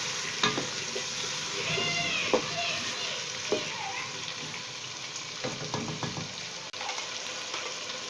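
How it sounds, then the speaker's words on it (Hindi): Chopped potatoes roasting with spices in a pan for aloo gobi, giving a steady crackling sizzle with intermittent spatula scrapes and stirring knocks. "अब इन तमाम मसालों को आलू के साथ हम भूनेंगे।"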